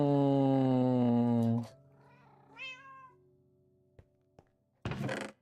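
A cat gives a long, loud meow that trails into a softer, wavering call, followed by a few faint knocks and a brief rustle.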